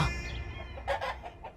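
A hen clucking in a few short, close bursts, with quiet background between the calls.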